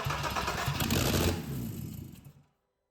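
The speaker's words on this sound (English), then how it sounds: "start really cranking the engine to get a first start" A BMW E30 fitted with a 3.2 VR6 engine turns over on the starter for its first start, a loud, steady mechanical churn lasting about two seconds that cuts off abruptly into silence, with no voices.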